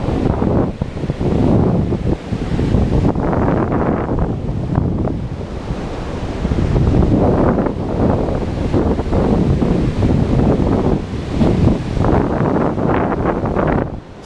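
Big waves crash and roll on a muddy, brown-water beach on the Louisiana Cajun coast, with strong gusting wind buffeting the microphone in a continuous loud roar of surf and wind noise.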